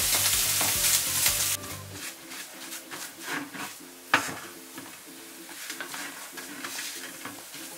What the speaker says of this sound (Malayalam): എന്നിട്ട് മുട്ടയുടെ ഉണ്ണി ഉടച്ച് ഈ ഫില്ലിങ്ങിൻ്റെ ഒപ്പം യോജിപ്പിച്ചെടുക്കണം.